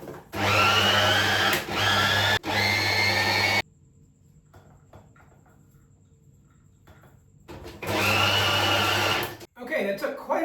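A small food chopper whirs loudly in two bursts while blending a vegetarian paste, stopping in between for a quiet pause with light handling noises, then a shorter clatter at the end.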